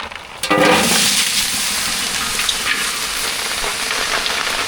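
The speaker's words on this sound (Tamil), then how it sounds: "இப்போயும் பாருங்க தொடர்ந்து மழை பெஞ்சிக்கிட்டு தான் இருக்குது" Steady rain falls in Mumbai in a continuous dense hiss, loud and close, drumming evenly on surfaces throughout with no break and no talking.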